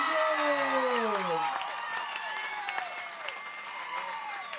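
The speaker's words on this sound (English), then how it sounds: "With a big applause." Crowd applause at a kitesurfing finals prize-giving in Noumea, New Caledonia, with dense clapping under a sweeping tonal sound and a loud voice over it, fading slightly toward the end.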